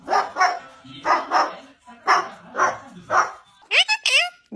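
A puppy barks in a series of about six evenly spaced yappy barks, close and loud, ending in a quick cluster of higher yips.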